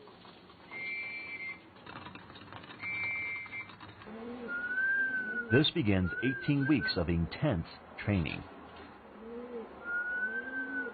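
Soft coos of racing pigeons in Taiwan repeat in the background while someone speaks over them, with a few short whistles mixed in.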